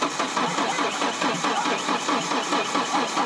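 A Ford Ranger's 2.3-litre engine being cranked, the starter churning in a fast, even rhythm that stays loud and close throughout without clearly catching.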